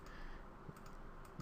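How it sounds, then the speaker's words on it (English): A computer keyboard's F8 key is tapped quickly several times, with light, close, quiet clicks and no talking. "So I was tapping F8 on the keyboard there"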